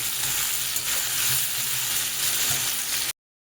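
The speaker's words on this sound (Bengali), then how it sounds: "এবার নুনটা দিয়ে এটাকে একটু ভালোভাবে মিশিয়ে নিই" Loud, continuous sizzling of vegetables frying in a pan with occasional scraping stirs, close up, ending abruptly.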